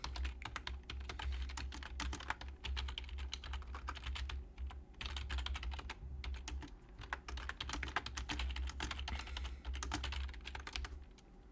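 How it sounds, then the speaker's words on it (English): Rapid, steady typing on a computer keyboard while entering a Minecraft command: dense clicking keystrokes continue for over ten seconds, with a few brief pauses and a low background hum underneath. "You just need to type"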